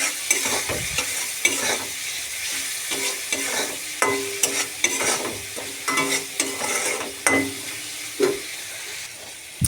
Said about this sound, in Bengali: সব মশলাগুলো দিয়ে আমি ভালো করে কষে নেবো।